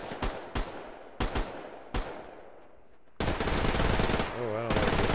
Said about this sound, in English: And I hear shooting.